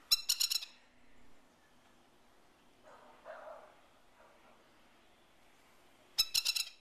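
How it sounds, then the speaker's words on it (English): Australian plovers give sharp, rapid rattling calls in two loud bursts, one at the start and one near the end, with quiet, faint murmuring sounds in between. "we've got some very dangerous birds. They're called the Australian plover."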